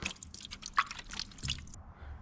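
Water dripping and draining off wet gold ore concentrates in a plastic tub, a few faint close drips and squishy trickles, quiet and brief, with no talk.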